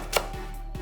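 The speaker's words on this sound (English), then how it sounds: "Cut 2 green onions to about 5 cm. Slice the other 2 diagonally." A knife slices through green onions on a cutting board, making a couple of quick, close, crisp cuts in a short burst with no talking.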